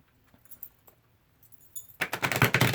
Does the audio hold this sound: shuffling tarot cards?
yes